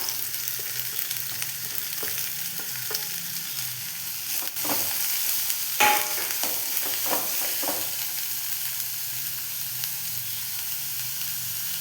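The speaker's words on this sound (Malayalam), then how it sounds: "ഇനി നമുക്കതിലേക്ക് ഒരു രണ്ട് മീഡിയം സൈസ് സവോള കട്ട് ചെയ്തത് ചേർത്ത് കൊടുക്കാം" Two medium sliced onions added to green chilli and ginger frying in a pan: steady hiss and sizzle throughout, with a burst of clattering scrapes from stirring in the middle, close and alone without speech.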